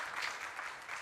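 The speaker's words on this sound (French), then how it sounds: "On va l'applaudir" Brief burst of audience applause at a televised French-language variety show, steady broadband clapping at moderate level throughout, no voices.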